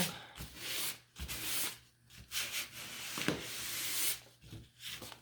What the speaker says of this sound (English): pass that sandpaper over top. So don't go too vigorously. Kind of gently run that along.